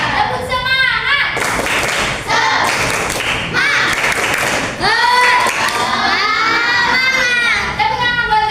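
In a classroom, children finish a rhythmic clapping game with a flurry of sharp, close hand claps and thumps, mixed with lively chanting voices from the group and a leading adult voice.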